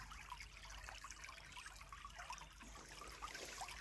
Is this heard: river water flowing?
yes